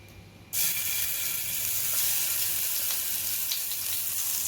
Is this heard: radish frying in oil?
yes